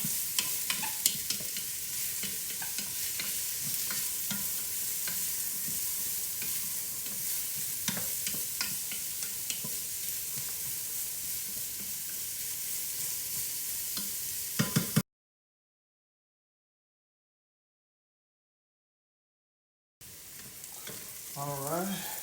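Celery and carrots sauté in a pan for homemade pasta sauce, a steady close sizzle broken by the scrape and clatter of stirring, briefly cutting to silence before the frying resumes.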